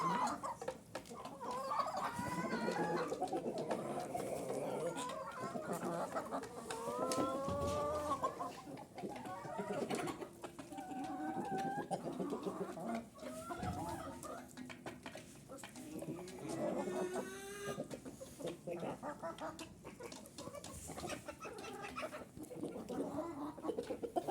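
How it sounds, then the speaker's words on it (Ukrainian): Chickens and roosters in a coop at evening, a dense continuous mix of clucks, squawks and short crowing calls close by, with occasional voices underneath. "Вон, грають знов півні і це вони їдять."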